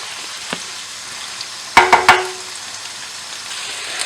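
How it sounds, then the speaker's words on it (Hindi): Small whole potatoes frying in a pan for a spicy aloo masala make a steady close sizzle, broken by a quick cluster of three sharp metallic clinks and scrapes from a spoon midway, with no talking. "अगर आपके आलू बड़े हैं तो आप इसे काट भी सकते हैं। इसको 2 मिनट तक मैं फ्राई करूंगी।"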